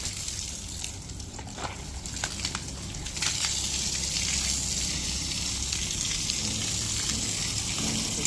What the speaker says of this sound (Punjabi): ਬਹੁਤ ਗੰਦਾ ਪਾਣੀ ਜਾ ਰਿਹਾ ਵਾ